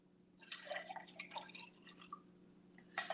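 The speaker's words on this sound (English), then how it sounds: "I'll pour it in a glass for you so we can have a perspective of kind of what it looks like." Cranberry juice is poured into a glass, giving close, faint bursts of gurgling and splashing liquid in short irregular spurts, with a final trickle at the end over a low steady hum.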